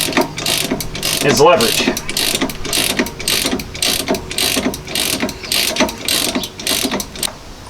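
A hand ratchet turns a bolt to press the harmonic damper off the engine crank of a Ford F250 pickup, giving a close, steady run of rapid mechanical clicks. A voice speaks briefly.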